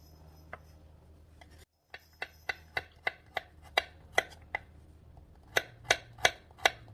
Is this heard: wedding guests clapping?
no